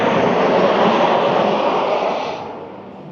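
Loud roar of an airplane passing overhead at an outdoor shopping area, a broad rumbling rush that holds steady and then fades away over the last second.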